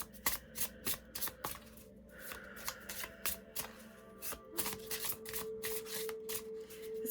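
Desert Rites Oracle cards being shuffled by hand: a quick, close run of crisp riffling flicks and soft slaps, repeating in uneven bursts.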